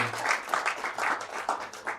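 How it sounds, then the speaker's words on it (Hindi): An audience at a ghazal poetry gathering claps in a short, faint burst with uneven pulses, heard from a distance for about two seconds. "तो रंगमंच के लिए पहले तालियां हो जाए"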